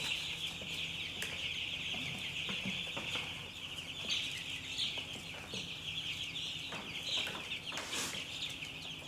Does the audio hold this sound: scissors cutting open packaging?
no